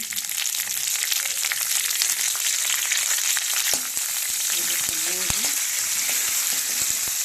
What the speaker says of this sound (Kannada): ಸಾಸಿವೆ ಜೀರಿಗೆ ಹಾಕ್ತೀನಿ, ಚಟ್ಪಟ್ ಅನ್ಬೇಕು ರೀ ಅವು